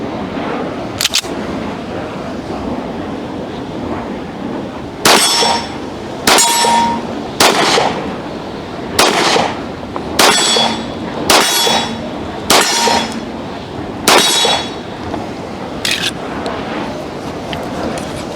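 An old .45 ACP pistol fired outdoors: about eight sharp, loud reports with metallic ringing, one early shot then a steady series spaced roughly a second or so apart, with no speech.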